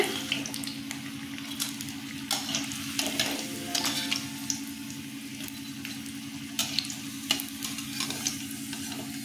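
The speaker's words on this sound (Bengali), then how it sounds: "মানকচুর বড়া ভাজা হয়ে গেছে।" Taro (mankochu) fritters bound with ground Gobindobhog rice paste frying in a pan of oil, a steady close bubbling sizzle broken by frequent soft clicks and scrapes of stirring, with no talk.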